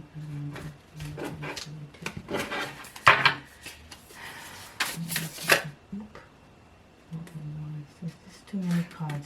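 Tarot cards being shuffled by hand, a series of close riffling and slapping bursts between pauses, with someone talking over and between them.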